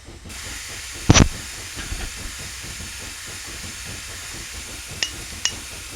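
Steam locomotive in Train Simulator 2019 with a steady loud hiss of escaping steam throughout, a rhythmic chuffing beat underneath, and a few sharp metallic clinks standing out near the start and toward the end.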